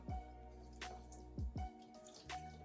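Apple cider vinegar poured from close by onto a corned beef brisket, giving a few soft, wet drips and splashes over about three seconds, with no talking.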